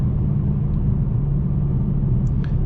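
A 2021 Mercedes E63S AMG sedan in race mode, a deep engine rumble heard from inside the car, loud and steady with little change in pitch.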